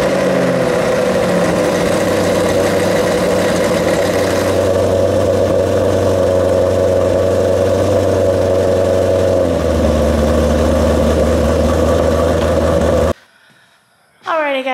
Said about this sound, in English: I'm gonna let that warm up and I'm gonna start this car.